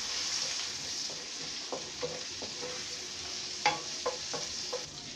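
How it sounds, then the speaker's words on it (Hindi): A tablespoon of crushed ginger and garlic fries in hot oil, a continuous close hiss of sizzling with scattered light spoon taps and stirring clicks. "अब हम इसे इसमें जो है ना वो अदरक लहसुन डालेंगे कुटा हुआ 1 टेबल स्पून और इसे लाइट गोल्डन होने देंगे"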